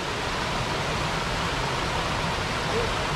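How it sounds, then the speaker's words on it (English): Caney Creek Falls in Bankhead National Forest rushes and streams as a steady, broadband roar of falling water close by, unbroken and even throughout. "That's the top of Caney Creek Falls right there."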